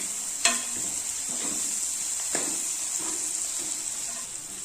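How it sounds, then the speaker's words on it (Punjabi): Ground spices (turmeric, green chili paste, red chili, salt) roasting in a pan for Rajasthani sangri sabzi, with a steady sizzle and a few scraping stirs of a spoon, close and alone with no talk. "ਇਹਨਾਂ ਸਾਰੇ ਮਸਾਲਿਆਂ ਨੂੰ ਆਪਾਂ ਚੰਗੀ ਤਰ੍ਹਾਂ ਭੁੰਨਣ ਦਵਾਂਗੇ"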